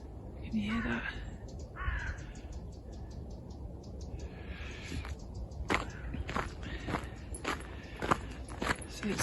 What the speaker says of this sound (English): You can hear my crunchy footprints.